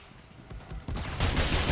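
A futuristic blaster rifle firing in the video game Agents of Mayhem, with rapid, loud bursts of shots that build into a dense, sustained volley in the last half second.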